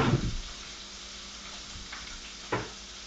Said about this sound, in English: I'm going to saute that now.